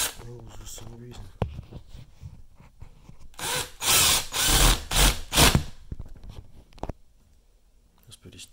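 A screwdriver turns a screw into wood in a workshop, with short ratcheting, scraping bursts close to the listener, broken up by someone talking before and after.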